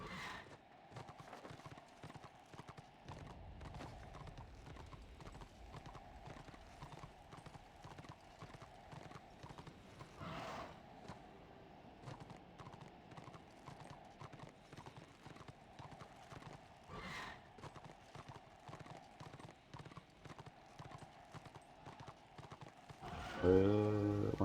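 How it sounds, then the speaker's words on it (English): Horse hooves clip-clop steadily from a mount in the video game Warhammer Online, a continuous rhythmic trotting of fairly quiet, even beats that runs throughout. "I'm gonna be on a horse."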